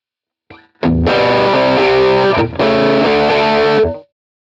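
Electric guitar played through a chorus effect on a Quad Cortex modeler: loud, sustained distorted chords with a slight widening shimmer, two long ringing phrases separated by a brief gap.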